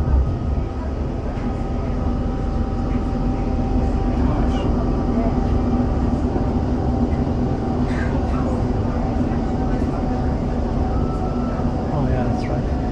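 Steady rumble of a train rolling along the rails from the Matterhorn toward Zermatt, a continuous low drone with faint higher rattles and squeals, heard from inside the carriage.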